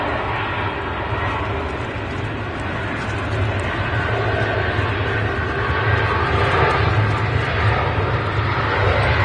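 An EasyJet Airbus A320 at Manchester Airport gives a loud, steady jet engine roar with broadband rumble that swells slightly louder partway through.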